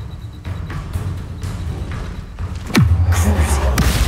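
A fire spell, Incendio, cast in Hogwarts Legacy: a quick rising whoosh swells into a loud, low, roaring burst that rumbles on over soft background game sounds.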